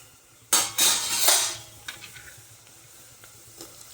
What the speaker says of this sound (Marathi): आपण आता ह्याच्यामध्ये टोमॅटो टाकू.